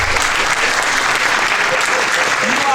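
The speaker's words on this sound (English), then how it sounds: "Let's give all of our candidates a round of applause." Steady, dense audience applause at a city council candidates forum in Port Wentworth in 2019, continuous clapping throughout.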